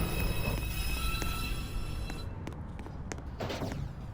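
A downtown express 2 subway train rumbles into Beverly Road station during evening rush hour, heavy low roar and rail clatter with a few sharp clanks and a fading squeal, close and loud before easing off.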